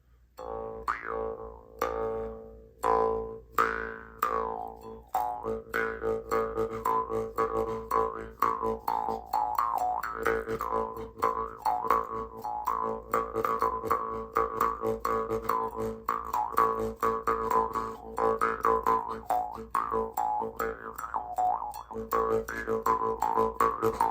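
A Mongolian Jew's harp twangs in continuous rhythmic plucks, its buzzing drone shifting in bright overtone wah-like sweeps, close and fairly soft, starting with a few tentative plucks before settling into a steady pattern.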